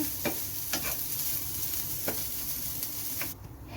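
Grated coconut and chili flakes fry in a pan over a low flame while a spatula stirs them, giving a soft steady sizzle broken by several light scraping strokes at irregular intervals.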